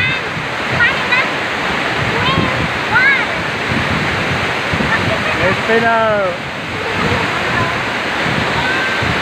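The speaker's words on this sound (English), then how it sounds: "the waterfall. My camera is getting wet." Waterfall in the Philippines roaring steadily as broadband rushing water close to the microphone, with people speaking briefly over it.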